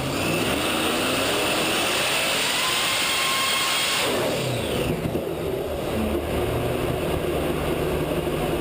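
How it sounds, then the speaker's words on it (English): An alcohol-powered engine roars loudly at close range, its sustained rushing exhaust noise shifting abruptly in character about halfway through as the exhaust system blasts. "A blast in the exhaust system of an alcohol-powered engine."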